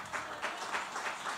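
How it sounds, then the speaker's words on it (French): A church congregation, on its feet, claps in a steady rhythmic pulse, a brief stretch of moderately distant applause with faint voices beneath. "je vous demande à se mettre debout pour applaudir ce que vous-même vous avez fait en ce soir"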